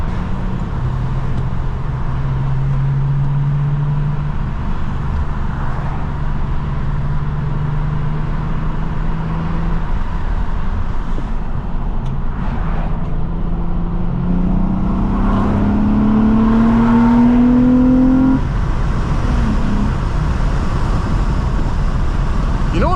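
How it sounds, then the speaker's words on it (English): A 2005 Nissan Altima 3.5 SE-R with a V6 accelerating hard in a 0-60 run, engine droning and rising in pitch through the gears, heard from inside the cabin with steady road and wind roar, loud and continuous. "Let's get Draggy set up and prepared to do a couple of 0 to 60 runs."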